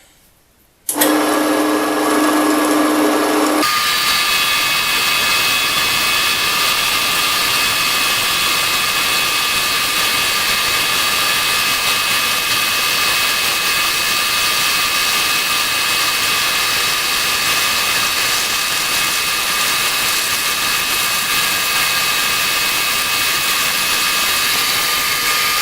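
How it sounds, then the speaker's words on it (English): A Milwaukee pneumatic bandsaw starts abruptly and cuts metal, holding a loud, steady, high-pitched mechanical whine for the whole stretch. "And start sawing."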